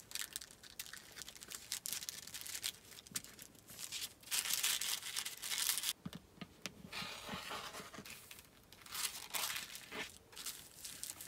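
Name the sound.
folding paper foundation piece along a seam for paper piecing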